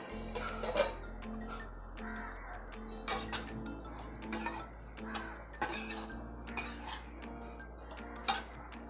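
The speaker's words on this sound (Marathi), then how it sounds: "पाच मिनिटं झाल्यात झाकण काढते" A metal lid comes off a cooking pot of stalk yam bhaji simmering on medium gas. Light clinks, taps and scrapes of metal cookware repeat at close range over a low steady hum, with no talking.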